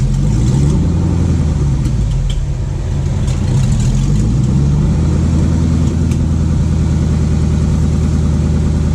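A Jeep Comanche with a swapped-in V8 runs in gear with a little gas, a loud, steady low rumble that swells and eases slightly, close by and alone.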